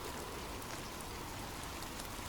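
Steady rain falls without a break, a dense hiss of drops pattering on surfaces, even and continuous at moderate level with no voices.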